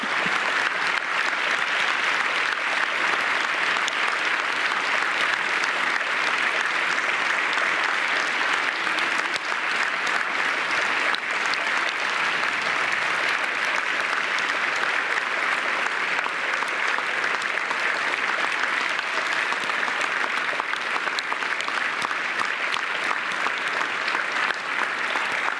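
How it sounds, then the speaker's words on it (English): Sustained applause from a large audience at the launch of an EU-wide debate on cancer, a dense, steady wash of clapping that stays loud and even for the whole stretch with no talk over it. "let's have another round of applause"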